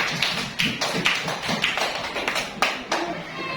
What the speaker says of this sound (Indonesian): Tepuk tangan sekali lagi untuk kita semua.